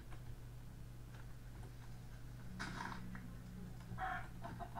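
Short bursts of Minecraft chicken clucking come twice over a steady low hum, moderately close, with faint ticking in between.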